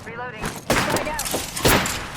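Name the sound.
frag grenade thrown and exploding in a video game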